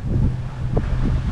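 Wind buffets the microphone aboard a sailing boat at sea, on a passage to the Dominican Republic, as a continuous low rumbling gust with a faint wash of water underneath and no voices.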